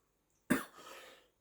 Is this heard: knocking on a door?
no